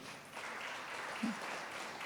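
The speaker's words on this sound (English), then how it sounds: "You're clapping for this." An audience applauds during a spiritual talk, a soft, even patter of many hands clapping, heard from a distance, with a faint brief vocal sound partway through.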